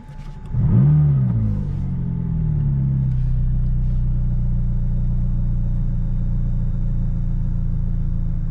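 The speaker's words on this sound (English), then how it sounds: "we're about to do a startup on a 2017 McLaren 570S trackback car" A 2017 McLaren 570S Track Pack starts up, with a sharp cranking burst and flare that settle into a steady, deep, loud idle rumble close by.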